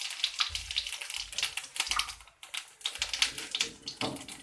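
Cumin seeds crackle and sizzle in hot oil in a kadhai, a busy, sputtering frying noise with bursts of popping throughout, close and steady, with no talking.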